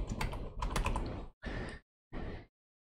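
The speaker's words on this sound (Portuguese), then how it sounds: "Vou digitar aqui, ó, foto." Keys clatter on a computer keyboard in three short bursts of typing, close and fairly quiet, separated by brief silences.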